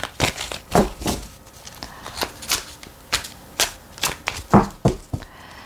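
Tarot cards being shuffled and drawn during a reading: a quick, uneven series of crisp card snaps and flicks, close and fairly loud, with no talking.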